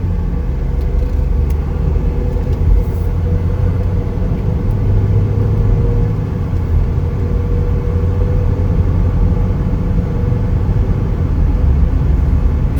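A 2019 Chevrolet Equinox LT driving on a road gives a steady, loud low rumble of engine and tyre noise that holds even throughout, with no talking.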